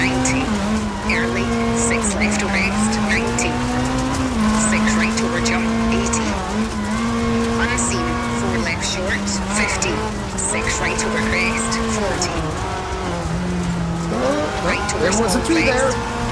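A rally car in a racing video game on a Finland stage, a fast car class, with the engine snarling loudly through rising and falling gear changes and occasional tyre noise, under a continuous co-driver voice calling pace notes.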